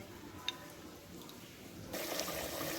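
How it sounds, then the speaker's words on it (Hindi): A glass of water poured into a pot of beef nihari, a soft liquid splash that swells into a steady, brighter gush near the end, with no talking. "अब इसके अंदर मैं 1 गिलास पानी का डाल रही हूँ"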